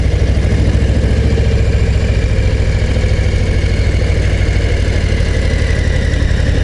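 A Harley-Davidson Low Rider ST motorcycle, nicknamed "Fast Johnnie", runs steadily while being ridden, its deep engine throb loud and continuous throughout with a low rumbling pulse.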